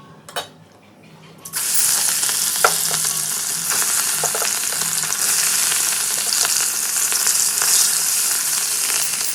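Fish curry with potatoes sizzles loudly in a pan, a steady dense frying hiss after a quiet start, broken by occasional clinks of a utensil stirring, with no talk.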